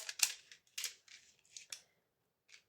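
Scissors snipping through paper in a handful of short, crisp cuts, close and fairly quiet, unevenly spaced with gaps between them.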